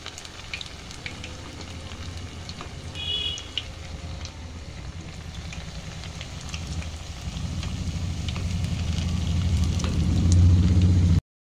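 Potato snack pieces frying in hot oil, a steady crackling sizzle that builds louder toward the end, close by with no talking.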